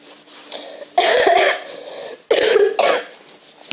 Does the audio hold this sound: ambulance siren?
no